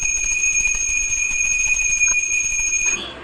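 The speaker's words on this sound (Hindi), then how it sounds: "घंटी ला भी बजाओ ना" A bell rung at a home shrine, a bright sustained metallic ring with steady overtones that holds for about three seconds, then cuts off abruptly.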